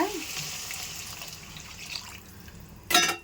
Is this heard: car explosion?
no